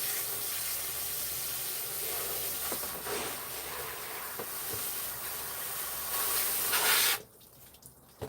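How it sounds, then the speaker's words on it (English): Water sprays steadily onto pepper plants in a garden, a continuous soft hissing that cuts off abruptly near the end, leaving faint quiet outdoor sound. "gonna water the peppers"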